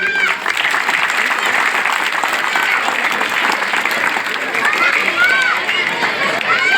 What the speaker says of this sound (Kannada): ಅವ್ರಿಗೊಂದು ಜೋರಾಗಿ ಚಪ್ಪಾಳೆ ಹೊಡೀರಿ